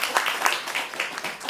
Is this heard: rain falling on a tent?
no